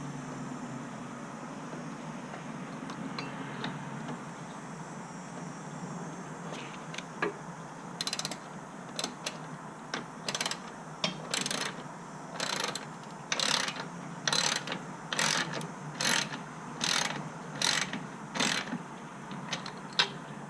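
A ratchet wrench snugging bolts on the rear wheel of a Harley-Davidson Road Glide motorcycle in a garage, clicking in short, regular bursts that grow more frequent, close and distinct over a low steady hum.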